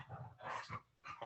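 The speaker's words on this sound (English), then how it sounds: "Excuse my dog here." A dog growls and barks indoors in three or four short, rough bursts with gaps between them, fairly faint and alone.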